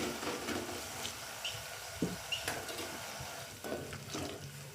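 Ivy gourd (tindora) frying in a pan for a village-style curry, a steady soft sizzle with occasional clinks of stirring, fairly quiet and close, with no talk.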